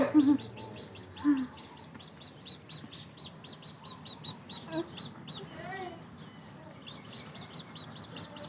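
Chicks chirp in rapid, repeated high peeps, a few louder calls near the start, continuing steadily over faint background noise.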